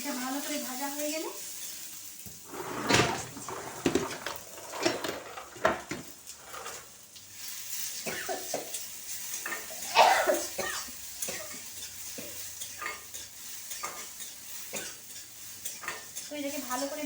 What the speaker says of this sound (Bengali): পেঁয়াজ আর রসুন লঙ্কাটা সুন্দর করে ভেজে নিচ্ছি।